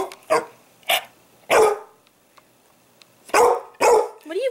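A dog barks five times in short, loud bursts, two close together then a pause, followed by two more sharp barks near the microphone.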